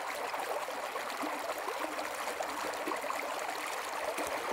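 Water squeezed through a Katadyn BeFree water filter, a steady fine trickling hiss with faint gurgles, continuous and close throughout, no talking.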